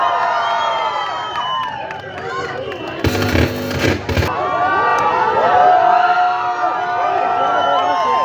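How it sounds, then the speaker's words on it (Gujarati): An audience at a restaurant inauguration event claps and cheers loudly for a performer from Mira Road, Mumbai, with sustained crowd noise, whoops and a brief burst of dense clapping in the middle. "ભાવિન ભાનુશાલી માટે તાળીઓ।"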